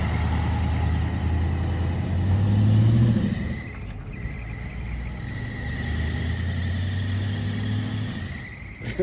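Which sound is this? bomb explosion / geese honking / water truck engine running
water truck engine running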